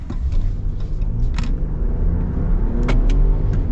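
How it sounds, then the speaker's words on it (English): The turbocharged engine of a 2025 Ram 1500 Limited pickup accelerates from inside the cab, a loud, deep rumbling drone building steadily over a few seconds, with faint interior clicks and no talking. "This is like a sports car engine."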